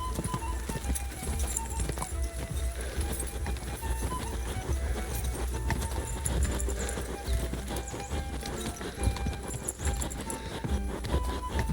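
Horse galloping in the video game Kingdom Come: Deliverance, a steady rapid clip-clop of hooves running continuously over a dense, busy game soundscape with music and ambience.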